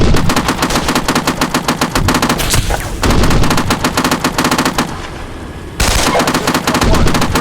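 Dense machine-gun fire and gunshots in the Steel Beasts Pro PE tank simulation game, with loud rapid bursts that run almost continuously, broken by a couple of brief pauses.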